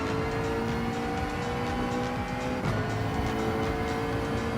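A Gran Turismo 7 race car on the Kyoto circuit in a video game, engine droning steadily at high revs with a shift in pitch midway and faint tyre noise, close and constant with no voices.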